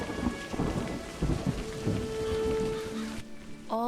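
Steady rain with rumbling thunder in A Highland Song, a dense patter of drops and low rolls under scattered tonal game cues, ending with a short rising chime.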